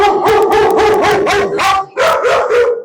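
Several dogs at a doggie daycare bark loudly and close by in a rapid burst of overlapping yaps and barks, broken by one short pause, with no talking heard.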